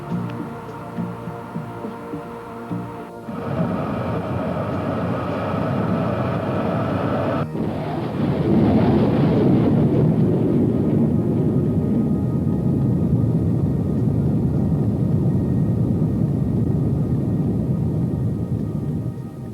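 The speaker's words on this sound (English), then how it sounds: "Afterburner's coming." Lockheed SR-71 jet engine afterburner lighting up, a loud, steady broadband roar that swells abruptly partway through and holds powerfully to the end, with no voices.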